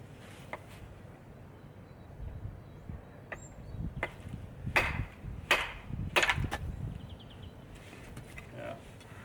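A Zu Bladeworx Warmonger Mk II knife is batoned through a piece of wood, struck with a heavier chunk of wood used as a hammer, giving a few sharp, hollow knocks in a quiet outdoor setting.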